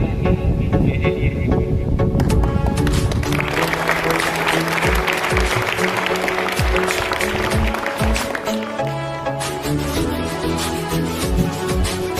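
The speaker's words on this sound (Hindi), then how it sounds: "इनके लिए जोरदार तालियां हो जाए।" A crowd at a school annual student-of-the-year awards function claps loudly and steadily, then music with a rhythmic beat rises over the applause and carries on to the end.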